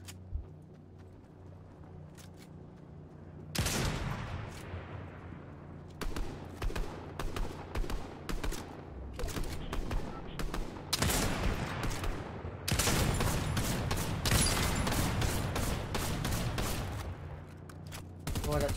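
Gunfire in the Fortnite video game, a cowboy-themed match: a quiet stretch gives way to repeated loud sharp shots and bursts, some in rapid clusters, with a short pause before a dense final volley.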